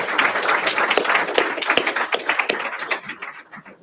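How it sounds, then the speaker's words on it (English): A church congregation breaks into a round of applause, dense rapid clapping close by that thins out toward the end, with no one speaking. "let's give the Most High Christ a round of applause."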